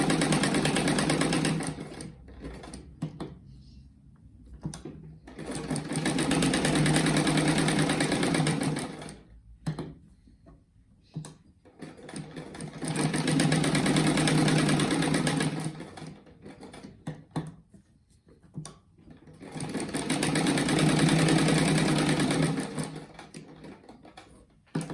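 Sewing machine stitching along a rug made from reused fabric scraps, three long steady whirring runs of needle strokes broken by short pauses and shuffling of the material, close and loud with no speech.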